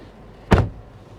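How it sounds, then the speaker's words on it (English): One solid thud of a Buick Encore car door slamming shut, close by, followed by quiet cabin stillness. "Let's close the door"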